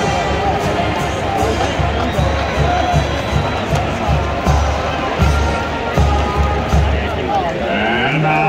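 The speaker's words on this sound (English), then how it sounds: "big cheer from the big house" A stadium crowd cheers at a Michigan football game in the Big House, a broad, continuous roar of many voices with rhythmic pulses, steady and loud throughout.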